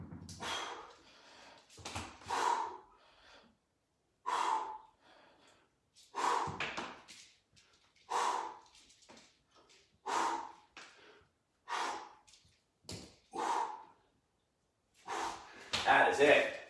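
Forceful breaths during exercise repetitions in a full-body follow-along workout, loud sharp exhales and inhales recurring in a steady rhythm every couple of seconds, close and alone with silence between them.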